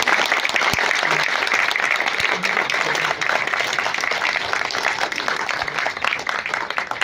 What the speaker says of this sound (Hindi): तालियों में कंजूसी ना करें आप लोग।